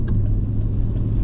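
Morning traffic on a busy road, a continuous close rumble of car engines with a few brief passing swishes layered over the steady drone.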